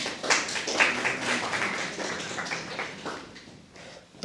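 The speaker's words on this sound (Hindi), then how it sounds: "ताली बजाओ इसके।" An audience in a classroom claps for a student, a scattered, moderately loud patter of many hands that runs steadily for several seconds before trailing off.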